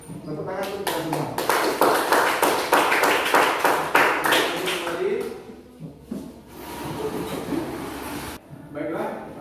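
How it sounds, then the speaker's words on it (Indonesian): A group in a teachers' training session claps hands together in quick, rhythmic bursts at close range, the claps loosening and trailing off. A leader's voice talks over and after the clapping. "Tepuk tangan untuk kita semua."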